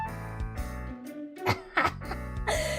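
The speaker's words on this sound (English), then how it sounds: "nearly coughs the pudding out of his mouth" A character in the video game Gore Screaming Show coughs and splutters on pudding in short, sharp bursts over soft background music, with a brief throat-clearing sound mixed in.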